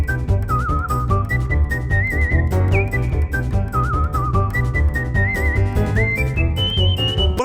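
A person whistles a bright, wandering melody that slides between notes, steady and fairly loud over a dense backing of music, with no talking.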